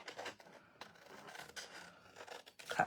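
Scissors snip through paper while a paper ornament is being cut, giving several short, quiet, crisp cuts in an uneven rhythm, with a slightly stronger snip at the end.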